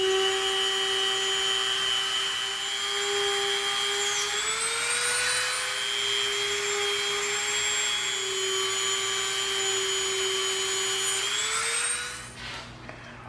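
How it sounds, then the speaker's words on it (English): A Dremel rotary tool cuts a trench into EVA foam with a steady, loud, high-pitched whine that wavers slightly in pitch, running continuously before winding down near the end. "we're going to Dremel a trench that we're going to use to submerge our wood dowel"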